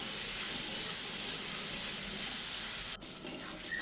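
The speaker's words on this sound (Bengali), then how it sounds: "আর এই সাদা তেলের মধ্যে দিয়ে দিচ্ছি 2টো পেঁয়াজ এইভাবে কুচি করে নিয়েছি" Chopped onions fry in white oil in a wok, a loud, even sizzle hissing throughout with a brief stirring scrape near the end.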